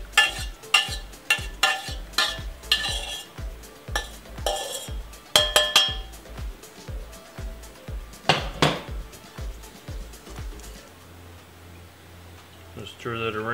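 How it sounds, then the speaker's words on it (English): A utensil scrapes and clinks against a metal strainer in a steady, repeated rhythm while a thick red wine reduction sauce for smoked braised lamb shanks is stirred through it, with a voice talking over parts of it. "Just stir that around. Let the good stuff drain through."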